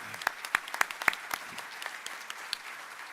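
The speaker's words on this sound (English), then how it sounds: "why don't we give them one more round of applause" Audience at a city awards celebration giving another round of applause to a gay men's choir: sparse, distinct claps, a few sharp and close, scattered over a quiet background.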